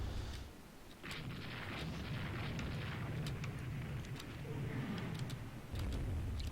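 Warship guns firing in the naval strategy game Rule the Waves 2, in a battle against pre-dreadnought battleships: deep rumbling booms with scattered sharp reports over a sustained low roar.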